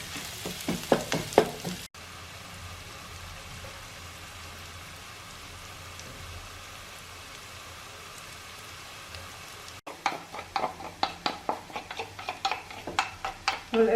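Chilli garlic mushrooms frying in a pan, a steady soft sizzle running throughout with brief stretches of sharper crackling and spatter, close and moderately quiet.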